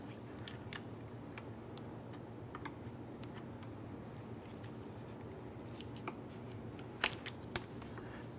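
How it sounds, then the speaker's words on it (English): On a 2006-2018 Jeep Wrangler JK intake, a plastic trim tool works at the retaining clips, giving faint scattered clicks and scrapes over a low hum, then a few sharper snaps near the end. "use your trim tool or body tool here, and we're gonna go ahead and pop some of these clips off that secure this to the intake"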